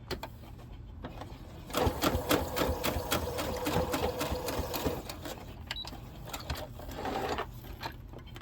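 A sewing machine top-stitches across a zipper tab, running in a fast continuous rattling burst for several seconds, pausing briefly, then starting again in shorter runs, close and clear with no talking.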